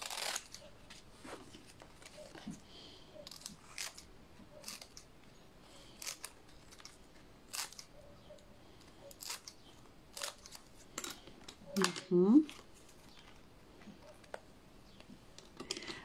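Scissors snip through wafer paper while cutting pieces about 3 cm long for small cake flowers, a series of light, close, crisp clicks and snips spread steadily throughout, with one slightly louder rustle near the end.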